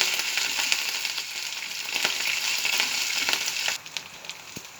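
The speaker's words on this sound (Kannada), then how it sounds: "ಶುಂಠಿ ಬೆಳ್ಳುಳ್ಳಿ ಪೇಸ್ಟ್ ಹಾಕ್ಕೊಳ್ತೀನಿ ಇದು ಸ್ವಲ್ಪ ಹಸಿ ವಾಸಿ ಹೋಗೋ ತನಕ ಸ್ವಲ್ಪ ಹಾಗೆ ಫ್ರೈ ಮಾಡ್ಕೋಬೇಕು" Ginger garlic paste frying in a pan, a moderate crackling sizzle with occasional scrapes of stirring, fading to a quieter hiss near the end.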